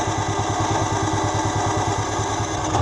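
A generator on an Adventurer 86FB truck camper runs close and loud with a steady, fast, even chugging pulse and no voices.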